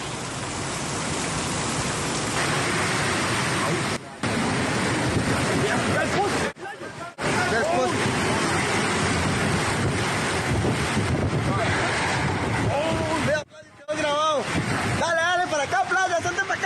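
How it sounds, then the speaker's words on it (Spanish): Strong wind and rain storm battering an outdoor spot, with heavy roaring gusts buffeting the microphone throughout, several brief dropouts, and voices shouting faintly beneath the din. "Vamos a escuchar el momento en el que el viento y la lluvia afectó el lugar."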